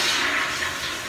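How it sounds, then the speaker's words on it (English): Toilet flush heard as a short burst of rushing, gurgling water that stays fairly loud and steady, with no talk over it. "There we go with that flushing again."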